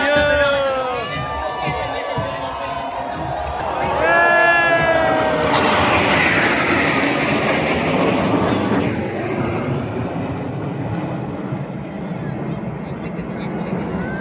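Indian Air Force Rafale jets fly over the India Gate parade, a broad rushing roar that swells midway and lingers beneath a loudspeaker announcer's voice and the murmur of the crowd.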